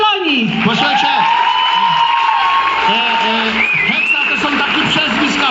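A crowd applauds and cheers steadily throughout, with many voices calling and talking over the clapping.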